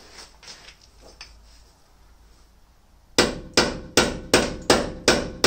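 A hammer bashes metal on a 1996 Tacoma 4x4 to clear a 33x10.5R15 tire on a 15x7 OEM wheel, outdoors: six loud, evenly spaced ringing blows follow quieter faint tapping.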